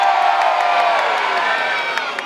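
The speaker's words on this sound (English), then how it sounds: "I heard you cheer once, I didn't hear it very loud." A crowd cheers and whoops loudly at a Christmas lights switch-on in Marlow, a sustained roar of many voices, close and continuous for a couple of seconds.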